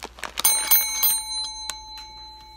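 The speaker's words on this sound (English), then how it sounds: "what he really likes to do is to tap this bell" A small bell rings with a bright, lingering tone after a cat's few quick taps, the shimmer fading slowly.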